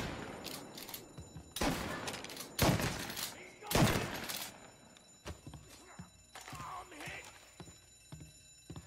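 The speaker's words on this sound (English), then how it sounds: "Oh, you got hit with a shotgun." Gunfire in the crime video game Mafia, with three loud, sharp blasts about a second apart followed by quieter scattered shots and game noise.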